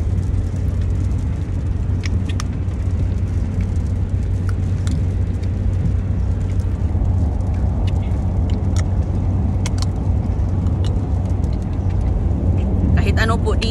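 Interior hum of a car on the road, a steady low engine and tire rumble that never lets up, with occasional clicks and people talking over it inside the cabin.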